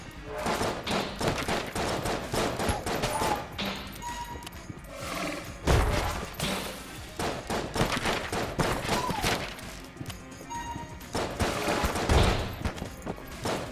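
Rapid bursts of bullets and gunfire in the video game Enter the Gungeon, dense repeated shots with thuds and impacts, loud and nearly continuous across the stretch, with no voices over it.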